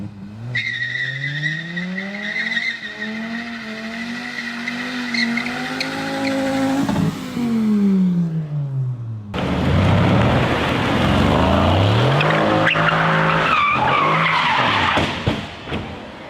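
A tuned car revs hard at high RPM and loses traction, its engine climbing and falling in pitch before tires break into a loud, sustained skidding screech, close and continuous.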